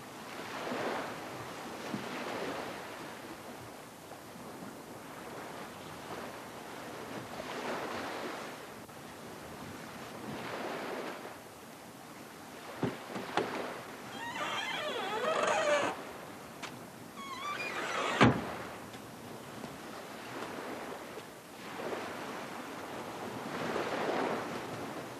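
Ocean surf rolls in repeated surges and fades for the whole stretch, near and fairly loud, with a few sharp knocks and rustles partway through and no speech.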